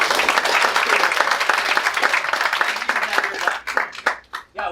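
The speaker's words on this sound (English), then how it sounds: "if we could just warmly welcome Tim with a round of applause" An audience at a talk on science and faith applauds to welcome a speaker, a dense, loud burst of clapping that holds steady for several seconds, then thins into scattered claps while a voice begins.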